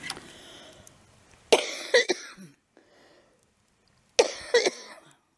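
A person coughs in two harsh bursts separated by a pause, each a cluster of close, loud hacks outdoors beside a hot tub, with quiet in between.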